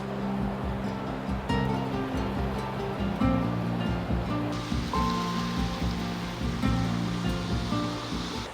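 Sea waves roll onto the beach at Ganpatipule on the Konkan coast of Maharashtra, making a steady, loud wash of surf with swelling crashes and a constant hiss, heard alone.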